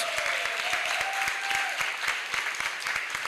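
An audience at a health-system congress applauds with sharp, distinct hand claps in a brisk, uneven rhythm, continuing without pause for over three seconds.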